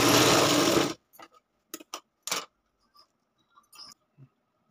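A sewing machine stitching tucks on a blouse runs loud and continuous for about a second, then stops, followed by a few short scattered clicks and handling noises in a quiet room.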